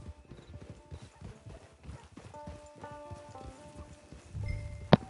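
Horse hooves clip-clop steadily in Red Dead Redemption 2 Online, a fairly close rhythmic clatter of footfalls with faint background sounds and a sharp knock near the end.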